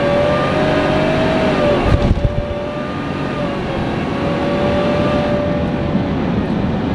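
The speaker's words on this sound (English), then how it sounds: "the sound of the Whipple, you know, how actually that whining noise that I love and I always love to hear" A Whipple Gen 5 3.0 supercharger on a 2018 Ford F150 V8 making over 700 hp whines steadily as the pickup accelerates hard, a loud continuous engine roar with rising tonal whine and a brief thump partway through.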